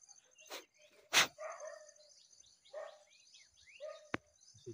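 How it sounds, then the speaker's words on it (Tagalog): A dog barks in the distance, ahead near what may be a house along the way, a few separate yaps spread across a few seconds with birds calling faintly around them. "May aso."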